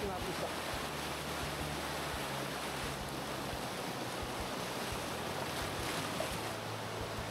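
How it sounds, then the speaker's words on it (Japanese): Rushing water from a waterfall in a swollen mountain headwater stream, a steady broadband roar filling the whole clip without a break, with low rumbling beneath and no voices. "すげえ滝がやってきたよ増水中"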